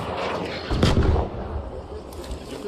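A Rocketeer enemy firing in the video game Arc Raiders: a heavy booming blast near the middle over a rumbling battlefield backdrop, with a brief crackling tail and a later fainter pop.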